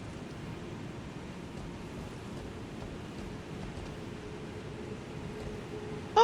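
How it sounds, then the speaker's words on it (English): A waterfall in the video game Elden Ring gives a steady, soft, low rushing roar with no breaks and no speech. "Okay, waterfall."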